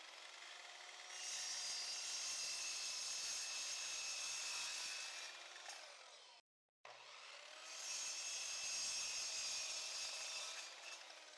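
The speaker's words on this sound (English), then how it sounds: "With the miter saw, I will remove the nail marks and cut a piece measuring 50 centimeters in length." A miter saw cuts pine pallet wood in two loud passes, each a rising whine into a sustained bright shriek through the board, with a short silent gap between the cuts and no talking.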